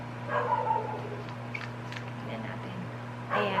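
A dog barks a few times nearby in a home, short yips at the start and end, with someone talking quietly over a steady low hum.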